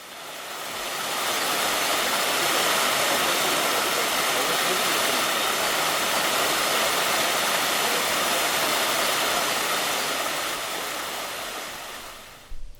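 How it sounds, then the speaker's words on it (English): Strong water flow rushes beneath a stone bridge in Kyoto Garden, Holland Park, a steady broadband roar that swells in near and then drops away at the end. "It's only when you get near to this point that you notice how surprisingly strong the flow of water is."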